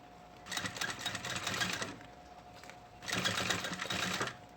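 A sewing machine stitches synthetic leather for a school pencil case, running in two close, steady bursts of rapid needle chatter separated by a short pause, with no talking.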